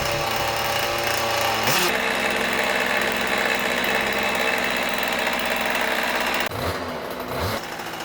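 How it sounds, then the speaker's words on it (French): A Beta 50 moped fitted with an MVT Digital Direct DD12 ignition starts up with a rough burst, then settles into a steady, close, buzzing two-stroke idle that continues alone before a brief change near the end. "Vous pouvez maintenant démarrer votre moteur."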